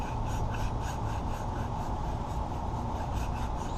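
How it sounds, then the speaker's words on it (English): A hand scraper rubs gently over a homemade thermostat gasket with a soft, continuous rasping scrape, quiet and close, steady for several seconds with no voices. "I'm just gently scraping it."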